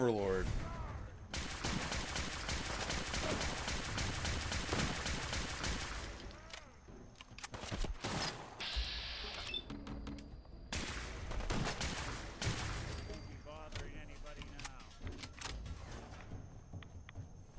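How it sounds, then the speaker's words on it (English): Gunfire in Fallout 4, a rapid fusillade of shots and bursts crackling through most of the stretch with brief lulls, loud against a busy game mix. "I hear shots."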